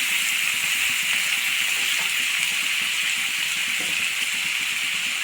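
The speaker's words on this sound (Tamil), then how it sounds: "வெங்காயம் ஒரே ஒரு நிமிஷம் வதக்கிட்டு எண்ணெய் நல்லா காய்ஞ்சிருக்கிறதுனால சீக்கிரமாக வதங்கிடும்" Chopped onions sauté in well-heated oil for a mango pulao, a steady, close, loud sizzle hissing continuously without pause.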